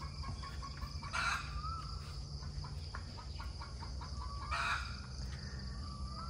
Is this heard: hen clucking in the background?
yes